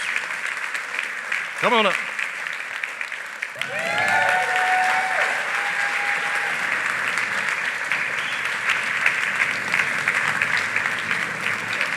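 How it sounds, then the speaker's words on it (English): A crowd breaks into steady, sustained applause that continues to the end, after a brief spoken line and a short whistle at the start. "give him a round of applause"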